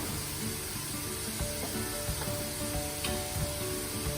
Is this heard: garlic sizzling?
yes